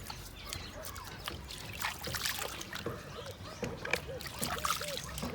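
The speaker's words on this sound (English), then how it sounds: "So I want to rinse my legs" Water is splashed and trickled over legs outdoors in an African village, with faint, uneven dribbling and splashing that sits low beneath a soft background and occasional distant voices.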